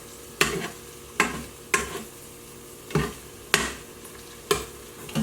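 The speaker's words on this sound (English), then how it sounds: "I'll just stir fry it all together with the veggies" Eggs and vegetables are stir-fried in an Instant Pot, with a soft steady sizzle broken by six evenly spaced scraping strokes of a spatula against the pot, close and fairly quiet, with no voices.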